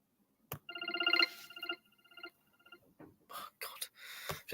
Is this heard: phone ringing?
yes